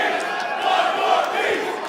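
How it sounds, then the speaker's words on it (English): A large crowd at a Yu-Gi-Oh championship event chants in unison, a loud sustained roar of many voices filling the hall without pause. "The crowd is chanting, one more piece."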